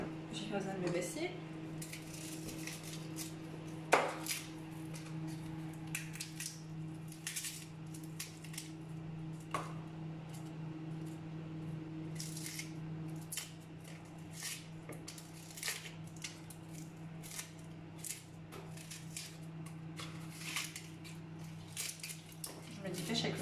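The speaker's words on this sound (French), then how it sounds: "Après, on va éplucher les oignons." Onions being peeled by hand while preparing couscous in a home kitchen, with soft crackling skin, small taps and utensil clinks over a steady appliance hum and a quiet voice.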